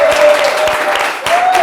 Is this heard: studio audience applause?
yes